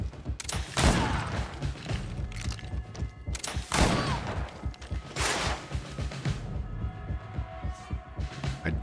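Gunfire in the fantasy RPG GreedFall: a few loud, sharp blasts with rumbling tails at roughly one-second intervals and a louder pair near the start, over a low throbbing game soundscape.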